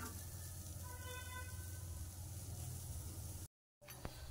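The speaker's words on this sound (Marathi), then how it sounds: "तर हे बघा मस्त असं तापलेला आहे आपला तवा. आणि कांदा टाकून घेऊया आपण." Chopped onion frying on a hot tawa gives a steady close sizzle that runs almost unbroken, cuts out for a moment, then returns with a few small clicks.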